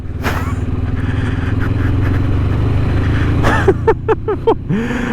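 A motorcycle with a stock exhaust hums steadily while riding on a road past cyclists, then gives several quick throttle blips near the end, close and fairly loud with a steady drone underneath.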